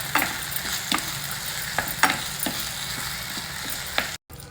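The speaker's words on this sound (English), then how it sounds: "It has been frying on a very low flame." Wild lemon pickle sizzles steadily in a pan over a very low flame, heard close up. A spoon scrapes and stirs it in irregular strokes about every half second to a second, and the sound cuts out briefly near the end.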